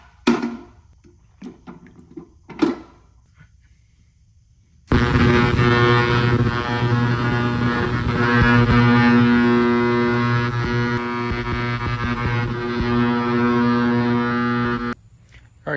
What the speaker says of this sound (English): We're ready to throw them in the parts cleaner here